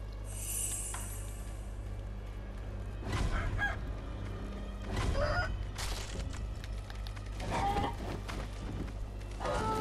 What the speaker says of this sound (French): Oh, je déteste les coqs.